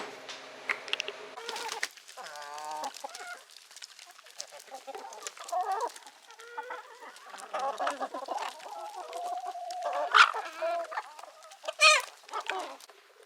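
Chickens cluck and murmur close by while pecking at scraps on a farm, with a steady stream of soft clucks and a few louder squawks, no talk.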